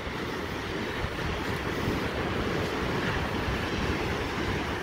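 Heavy ocean surf roars steadily along the rugged Lost Coast of California, a dense, unbroken wash of breaking waves with no clear gaps or voices.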